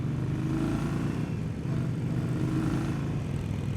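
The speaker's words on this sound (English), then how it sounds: "I'm riding motorcycles with random people" Steady low engine drone of a 2020 Indian Scout Bobber Twenty motorcycle cruising, a continuous rumbling hum with slight rises in revs, close and sustained.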